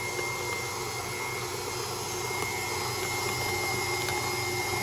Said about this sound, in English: The texture is amazing if you use the mixer.